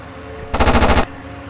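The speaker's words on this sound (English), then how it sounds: "You're firing up and to the right of the target" Aircraft machine guns firing in the Aces High flight game: one loud half-second burst of rapid rounds over a low, steady engine drone.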